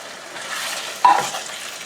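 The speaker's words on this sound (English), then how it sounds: "we're just going to start stirring that together" Ground beef stroganoff with canned soup is stirred in a pan, a soft scraping swirl over a low sizzle with one sharper utensil knock midway, close and brief.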